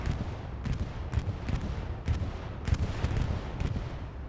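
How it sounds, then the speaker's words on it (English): Allied bombing run in a war video game, a rolling series of heavy booming explosions and sharp cracks recurring every half second or so, dense and continuous, with no talking. "That's a bombing run. Allied bombing run."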